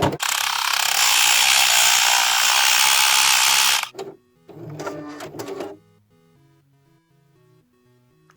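An embroidery machine stitches directly on stabilizer, a loud steady buzzing hum for several seconds, then stopping into a few short mechanical whirs and clicks before falling quiet.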